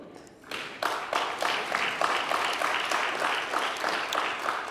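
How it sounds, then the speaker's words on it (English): Audience applause at a Baptist church event, beginning with a few scattered claps and swelling into sustained, fairly close clapping that holds steady throughout. "I promise I will let him know that you clapped for him"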